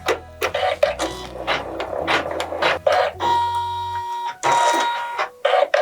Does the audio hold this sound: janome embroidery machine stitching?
yes